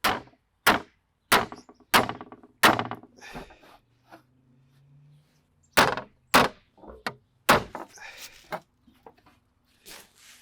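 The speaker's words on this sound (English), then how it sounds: "place the aluminum over that straight edge, and beat on it with a hammer." A hammer beats an aluminum sheet bent over the straight edge of a tree stump. About a dozen sharp, loud metallic whacks come in uneven bursts with short pauses, and a faint low hum sits between strikes.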